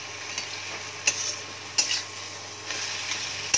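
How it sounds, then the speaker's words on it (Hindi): A potato and jackfruit kofta mixture is stirred with spices in a pan, with a soft continuous sizzle and several sharp scrapes and taps of a spoon against the metal at irregular intervals. No voice is heard. "और इसे मैं दो तीन मिनट तक थोड़ा पकाऊंगी इसमें मसाले के साथ"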